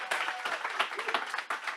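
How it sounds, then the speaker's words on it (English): Audience applause following a forum presentation on prison and rebellion, a dense wash of clapping hands that holds steady at moderate level for under two seconds, with no talking over it. "let's give another round of applause"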